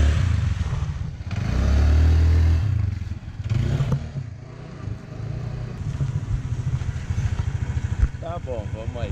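A motorbike in Bali is started and ridden on a quiet street, its engine revving in a loud, rough burst and then settling into a steady putter with clattering, while people talk over it.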